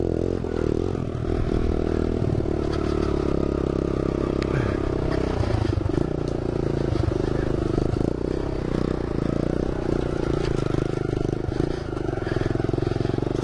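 A motorcycle rides across a field, its engine droning steadily and loud throughout with rough clatter and scraping from the uneven ground, heard up close.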